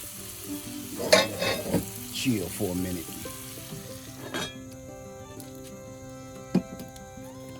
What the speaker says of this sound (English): You're gonna just let that simmer a little bit.